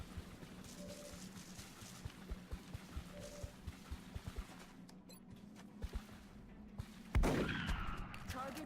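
Gunfire in XCOM Long War at a crash site, with scattered rapid shots under a low rumbling game background and a sharp loud burst near the end, joined by voices speaking.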